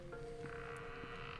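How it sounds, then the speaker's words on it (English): A faint, low creak with a brief croaking rasp in the Bendy and the Ink Machine video game, heard alone over a quiet ambient hum and lasting about a second. "What the heck just creaked and croaked?"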